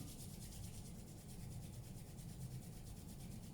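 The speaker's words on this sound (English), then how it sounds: "Rub your palms together to make them nice and warm." Palms rub briskly together in a quiet room during a kids' yoga lesson, a steady close dry swishing friction that continues evenly without pause.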